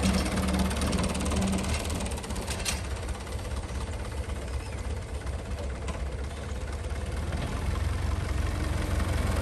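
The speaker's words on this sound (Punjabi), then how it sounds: "ਲਓ ਜੀ ਟਰੈਕਟਰ ਆ ਗਿਆ ਜੀ" A tractor engine idles steadily with a low, continuous rumble and faint knocking throughout, with no talking.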